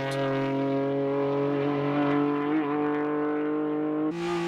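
A loud, close tuned engine in a Subaru Impreza or Mitsubishi Lancer holds a steady high-rev drone with a rich buzzing tone, dipping briefly near the end before settling again.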